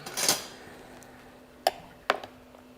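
A spoon fetched for melon shaved ice, heard as a faint metallic cutlery rattle up front followed by two sharp, separate clinks against a quiet kitchen background.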